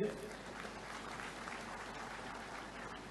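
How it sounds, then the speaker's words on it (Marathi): Steady, distant crowd applause at a village development event attended by the Maharashtra governor, faint and evenly sustained throughout. "गावाच्या या यशोगतीसाठी एकदा जोरदार टाळ्या झाल्या पाहिजेत."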